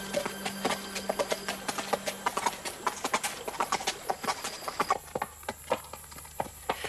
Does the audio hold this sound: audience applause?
no